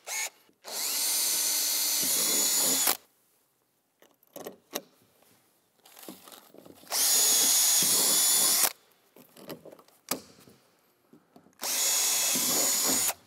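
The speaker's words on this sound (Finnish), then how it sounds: "pulttien reiitys kannattaa tehdä täältä ulkoa päin" A power drill bores bolt holes from the outside of a Classic nordic hot tub kit, with three long, loud whining bursts separated by quiet pauses full of handling clatter and knocks.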